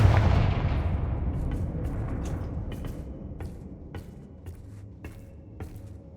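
A Confringo fire spell explodes in the video game Hogwarts Legacy: a loud, booming blast at the start that rolls and fades over several seconds, followed by faint scattered clicks and small impacts.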